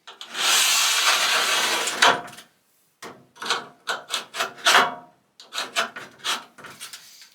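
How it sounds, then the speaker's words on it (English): A small metal scribe scraping along sheet metal to trace a floor patch outline for a Chevrolet Blazer: a long continuous scratch, then a pause and a run of short, close, rhythmic scraping strokes, with no talking. "Use a little scribe."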